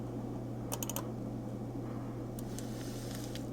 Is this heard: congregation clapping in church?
no